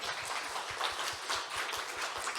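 A dense round of audience applause fills the hall at the opening ceremony of an academic conference marking the 33rd anniversary of the Korea Legislation Research Institute; the many claps blend into a steady, fairly loud wash.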